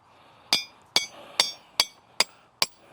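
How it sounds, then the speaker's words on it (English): Six sharp, evenly spaced hammer blows ring out, driving 1/4 inch rebar through paver holes on a no-tools raised garden bed build, each strike bright and metallic with a short ringing tail. "you could just get like a 1/4 inch rebar and you could just pound it through."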